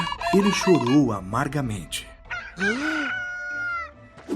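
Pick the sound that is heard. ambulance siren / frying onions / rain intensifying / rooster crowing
rooster crowing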